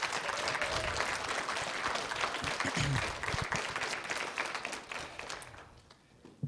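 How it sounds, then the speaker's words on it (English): Sustained audience applause at a Wyoming social justice advocacy event, dense steady clapping that holds loud for about five seconds, then thins and fades toward the end. "Can we get a round of applause for 20 years?"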